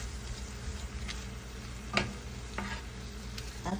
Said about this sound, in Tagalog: Haluin natin para mag-coat yung ating meat